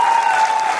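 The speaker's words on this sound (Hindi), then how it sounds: "इनके लिए भी जोरदार तालियां बजा दें।" A theatre audience at a play claps briefly in a short, loud burst of dense applause with a steady tone running underneath.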